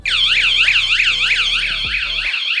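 A van alarm wails in rapid repeating up-and-down sweeps, loud and near, continuing steadily throughout the whole clip.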